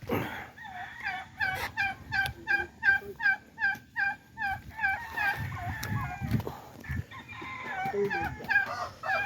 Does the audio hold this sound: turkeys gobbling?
yes